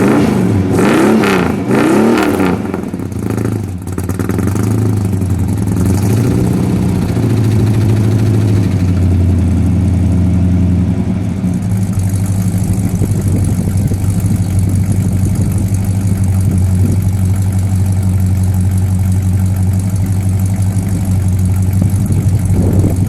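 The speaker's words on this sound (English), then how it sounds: "Low master exhaust. That's a very good sound." A 1960 Plymouth Fury convertible's engine with a low exhaust, loud and close, first revving in several quick bursts, then settling into a steady, deep idle rumble that carries through to the end.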